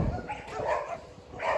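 Dogs caged at a large kennel housing golden retrievers, Malinois and Labradors give a few faint, short barks and yips from some distance, heard alone.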